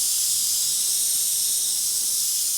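An airbrush spraying paint to spatter a granite effect gives a steady, loud, close hiss of air that holds unbroken throughout, with no voices.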